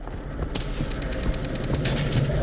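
Coins jingle and clink as they are picked up in BioShock Infinite, a bright metallic clatter rattling steadily for a couple of seconds, close and clear with no talking.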